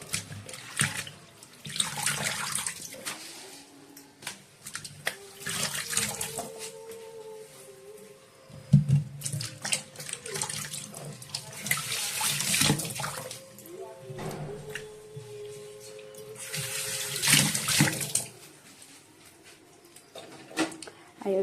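Cut leafy greens are rinsed under a running kitchen tap, water splashing and trickling in repeated bursts as the leaves are handled, with occasional clatter of utensils and brief voices nearby.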